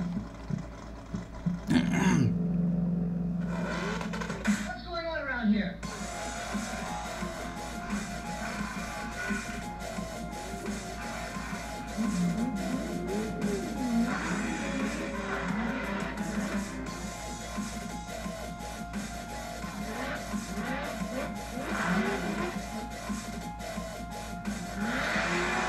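A Funco sand car engine drones and revs, heard through a played-back clip, with rising and falling tones and a few abrupt bursts early on, steady and moderately loud.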